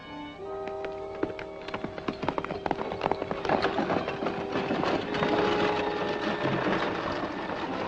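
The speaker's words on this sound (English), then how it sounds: "Get these horses out of sight." Horses' hooves in a 1950 western serial, a quick clattering run of hoofbeats rising among rough outdoor noise and a droning background, fairly loud and close.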